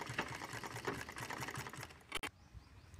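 Sewing machine stitching the seam of a drawstring wrist bag, a steady close mechanical whir running through most of the moment before stopping abruptly, with a brief clack as it halts and quiet afterward.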